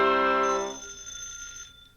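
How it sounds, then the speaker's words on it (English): A single bright electronic chime rings out and fades over about a second, leaving a faint hum. "Early next morning, the doorbell rang again, and Janie opened the door."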